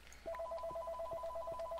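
A phone ringtone goes off in the background of Minecraft gameplay: a steady, fairly faint electronic trill of two warbling tones that repeats without pause from start to finish.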